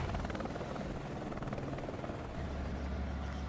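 Helicopter over São Paulo, a steady rapid rotor chop with engine whine, loud and continuous throughout.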